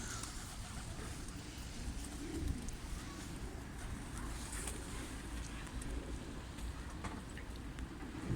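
Soft, low pigeon cooing repeats under a constant airy background rumble, no talking.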